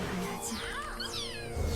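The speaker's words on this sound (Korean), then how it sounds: "고양이 야옹 한번 해주고" A couple of quick, high meows from a game cat sound over steady game noise, with a low thud at the end.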